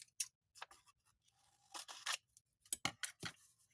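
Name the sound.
scissors cutting paper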